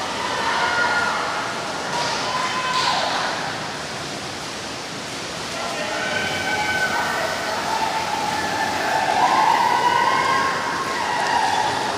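Swimmers splash through pool laps at an indoor swim meet, a constant rushing wash of water noise with crowd voices and faint whistling tones layered over it.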